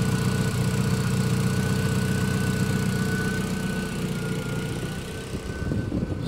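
A 1996 VW Passat B4 with a 2.0L engine on RusEFI idles steadily up close, a continuous mid-low engine drone with a faint constant whine and slight unevenness near the end, no voices.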